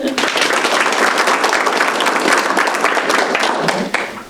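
An audience claps for students at a board of education meeting, a dense steady applause that runs for about four seconds and then quickly fades out.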